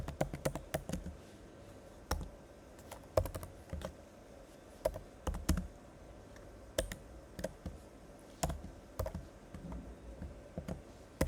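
Bursts of typing on a computer keyboard, quick runs of clicky keystrokes separated by short pauses, close up and fairly quiet, with no speech.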